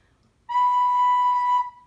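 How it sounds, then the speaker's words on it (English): A single steady recorder note, a B blown with warm air, sounds clearly for about a second, bright and pure with a soft breathy edge, then stops cleanly. "So if I blow into my recorder with warm air,"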